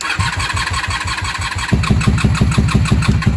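A 1994–2003 Honda Magna V45 V4 motorcycle, left sitting three days with a dry carburetor and on choke, cranks with a rhythmic starter whir and then fires into a loud, close, lumpy idle.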